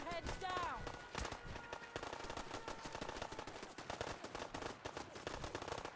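Rapid automatic gunfire from defensive turrets in the Fallout 4 video game, dense bursts of shots with a voice talking and other game sounds mixed in, fairly quiet overall.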